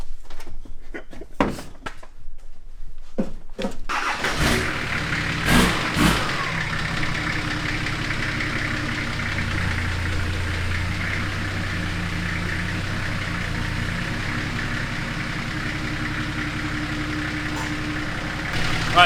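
A TD42 turbo diesel engine idles steadily close by, a continuous low rumble with a few sharp knocks and clicks at the start before settling into an even drone.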